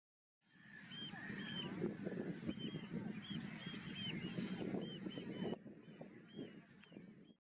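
A huge flock of oystercatchers and knots at Snettisham calling together, a thick, continuous chorus of overlapping piping and honking calls that swells after a silent start, then eases slightly near the end.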